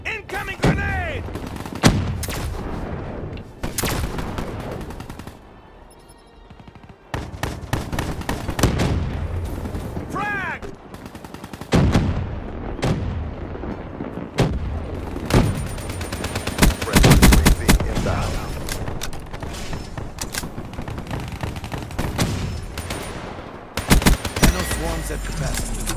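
Heavy gunfire and booming blasts from a Hellstorm missile strike in Call of Duty: Black Ops III, loud and dense, with bursts and impacts scattered throughout under occasional game voice callouts.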